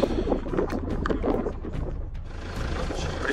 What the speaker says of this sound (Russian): достаточно сильный ветер боковой дует, и такой постоянно, ни порывов, ничего нету